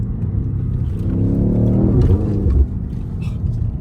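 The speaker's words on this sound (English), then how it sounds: "You hear the turbo whistles so much." A BMW X6M engine revs up with a rising turbo whine, then settles to a steady rumble, heard from inside the vehicle, loud and continuous.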